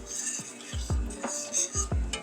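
Spoon scraping and clinking against a pan while stirring bologna gravy, a rhythmic series of about five close metallic knocks over a low background hum.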